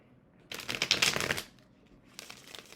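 A deck of playing cards is shuffled in two bursts of dense riffling that are close and fairly loud, with a short quieter gap between them. No one speaks.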